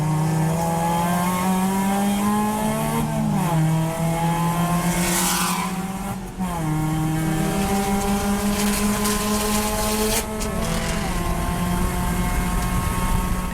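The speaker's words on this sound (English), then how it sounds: "We have Tyson back in the car doing his extension of his first stint." A race car engine runs loud and steady at an endurance race at Clark Speedway, with strong sustained harmonic drone, pitch rising through gears and dipping briefly at shifts around three, six and ten seconds.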